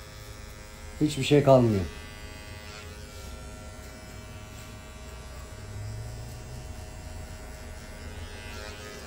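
Electric hair clipper buzzing steadily while finishing a mid fade haircut, a close constant hum running under brief speech from a man, with a slight swell in intensity near the end.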